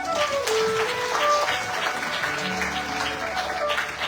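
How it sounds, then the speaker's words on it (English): An audience at a Ganesh Utsav spiritual celebration applauds, a continuous, fairly even roar of clapping with a few faint tonal sounds drifting through the hall behind it. "Please give him a round of applause."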